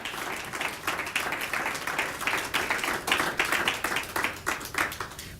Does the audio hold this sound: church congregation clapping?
yes